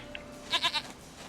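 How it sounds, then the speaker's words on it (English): Goat in The Witcher 3 video game giving a short, quick bleat in three rapid pulses, close and clear over quiet background ambience. "Goat of mine, dearest, sweetest goat."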